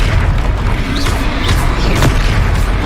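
A Confringo fire-blast spell explodes in the video game Hogwarts Legacy: a loud, dense, rumbling boom with a few sweeping whooshes layered over it for the whole stretch.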